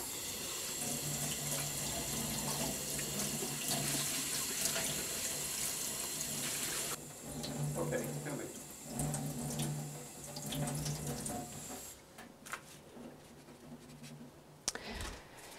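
Tap water runs steadily over a metal etching plate as it is rinsed, a continuous close splashing that breaks off partway through, then returns in shorter bursts with small knocks and handling sounds.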